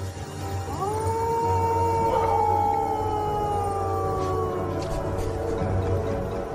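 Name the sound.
wild dog (dingo) howling in the Australian desert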